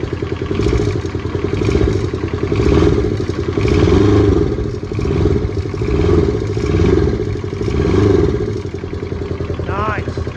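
A Kubota T1600 diesel engine, restarted after years of sitting, idles with a steady clattering chug and swells in repeated throttle bursts, rising and falling close by. A brief voice appears near the end.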